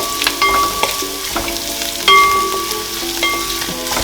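Fennel and cumin seeds sizzle in hot oil in a pan while a white chicken mushroom biryani is being made. A steady, close crackling fry is broken by a few clinks of a spoon stirring.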